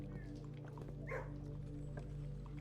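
A dog in the video game Blue Prince gives a short yip or bark, faint, over a steady game hum and background music.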